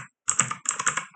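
Keys on a computer keyboard clack in two quick close bursts as a server restart command is typed on a Debian system, with no talk.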